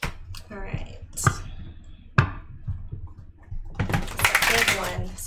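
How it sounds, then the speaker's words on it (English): Tarot cards are handled and riffled close up, with scattered taps and a longer rapid flutter of shuffling near the end, with a voice speaking at times. "I'm going to shuffle it a couple times"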